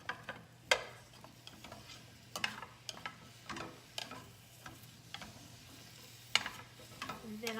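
Quartered mushrooms stirred in olive oil in a pan, soft sizzling under scattered sharp clicks and scrapes of a utensil against the pan, quiet and close.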